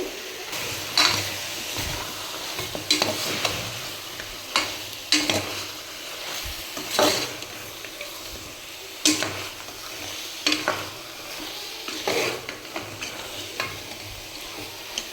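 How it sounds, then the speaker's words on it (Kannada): Mutton pieces fry and sizzle in a pan for a village-style mutton curry, with a steady hiss broken by repeated sharp scrapes and stirs of a spoon against the pan, close and fairly loud, with no voices. "ಮಟನ್ನೆಲ್ಲ ನೀರು ಬಿಡಬೇಕು, ಅಲ್ಲಿವರೆಗೂ ಇದು ಹುರ್ಕೊಳ್ತೀನಿ"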